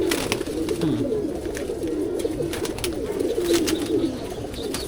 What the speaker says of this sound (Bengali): খুবই সুন্দর কবুতর দেখতে পাচ্ছেন